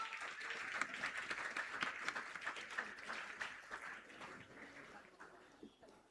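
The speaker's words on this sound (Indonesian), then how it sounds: "Dados tepuk tangan yang meriah." Audience applause at a Balinese theatre performance by Teater Tiga, a steady wash of many hands clapping, fairly faint and distant, slowly fading toward the end.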